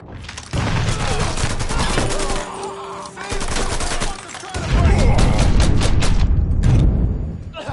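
Heavy gunfire and a grenade blast from the video game Mafia 3: dense, loud bursts of shots roll on for several seconds, then a deeper booming rumble swells near the end, with shouted voices mixed into the chaos.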